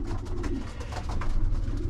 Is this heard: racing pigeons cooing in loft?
yes